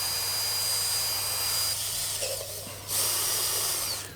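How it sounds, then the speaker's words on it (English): A power drill with a 1/4 inch bit bores a hole during installation of a front bumper on a 2022 Toyota Tundra, a steady whirring buzz that holds nearly constant for about four seconds, close and loud, with no talking. "So I'm going to drill a hole here. I grabbed a 1/4 inch bit, it might be 5/16."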